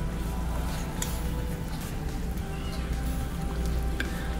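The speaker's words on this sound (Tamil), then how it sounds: "வத்த குழம்புக்கு சுண்ட வத்தல் நான் முன்னாடியே ஃப்ரை பண்ணி எடுத்து வச்சிருக்கேன் அதை சேர்த்துக்கறேன்" Pre-fried turkey berries go into a pot of tamarind vatha kuzhambu as it simmers, giving a steady, soft sizzling and bubbling hiss close by, with no voices.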